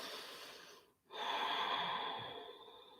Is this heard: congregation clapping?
no